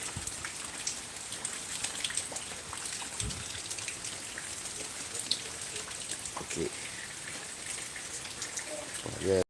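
Steady rain pours down, drumming on leaves and surfaces in a broadband hiss with scattered louder drops, close and continuous, and a brief louder burst near the end.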